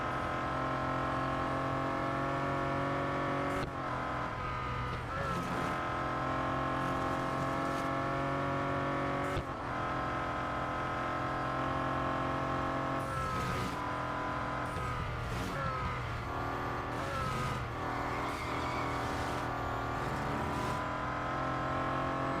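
Bentley Continental GT Speed engine droning steadily through a Real Racing 3 race, with gear-change dips and brief tyre squeals.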